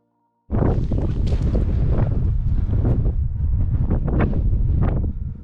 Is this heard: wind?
yes